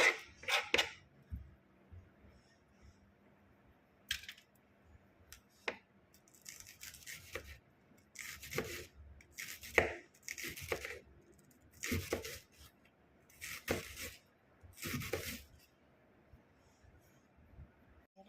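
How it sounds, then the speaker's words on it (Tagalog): A knife chops onion on a cutting board while a Filipino-style tuna (tulingan/albacore) in coconut milk is being prepared: irregular crisp cutting strokes, some in quick clusters, close by and moderately loud in an otherwise quiet kitchen. "Then, cut ng sibuyas guys."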